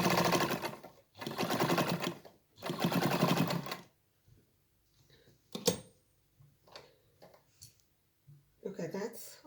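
A sewing machine stitches a seam in three steady runs of rapid, even clatter separated by pauses, followed by quieter handling clicks and a speaking voice.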